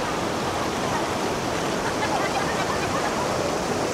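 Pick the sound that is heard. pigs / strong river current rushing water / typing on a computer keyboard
strong river current rushing water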